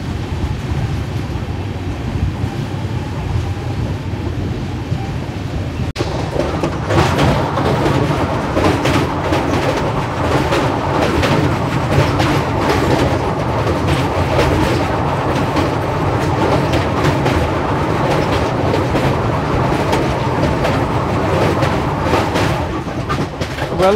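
Kakinada Port–Bhavnagar superfast express train running near the Krishna river crossing into Telangana, a loud continuous rumble with rhythmic clickety-clack of wheels over rail joints, heard from inside the moving train.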